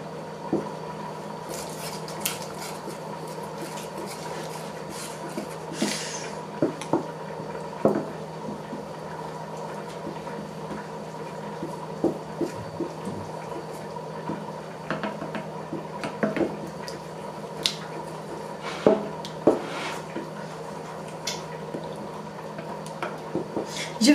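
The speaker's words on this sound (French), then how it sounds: "Il faut bien mélanger pour ne pas avoir de grumeaux" Flour being stirred into hot water in a pot of Moroccan harira soup, a steady run of small scraping and clinking utensil taps against the pot over a constant low kitchen hum, with no talk.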